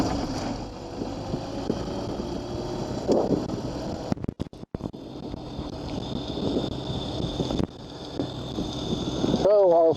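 A small propeller plane's engine is started at a grass fly-in, with steady wind and engine rumble, a brief dropout, and the engine note rising near the end, while a voice is faintly heard.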